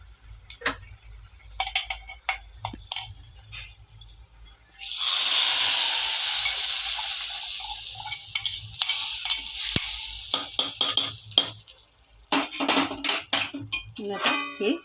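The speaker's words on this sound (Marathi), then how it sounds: "आता हा तडका असा आपल्याला याच्यामध्ये खिचडीमध्ये टाकायचं आहे" Fried garlic tadka is poured into spinach khichdi and bursts into a loud, steady sizzle that slowly fades. Scattered clicks and clatter come before and after it.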